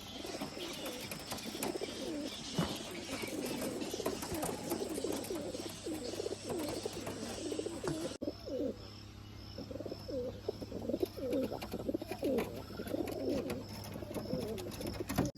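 Pigeons coo at dusk on top of a farm shed, with soft rolling calls repeating throughout at moderate distance. Faint chirps and light rustling sit in the background.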